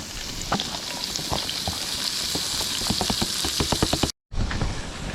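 Onion sizzles loudly in bacon grease inside a Dutch oven over a campfire, a dense steady crackle and hiss with sharp pops, cut by a brief dropout near the end.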